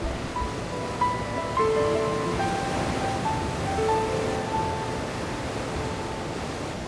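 Ocean surf rolls steadily onto the Northern California coast near the Gualala River, a continuous loud wash of breaking waves with faint thin tones drifting over it.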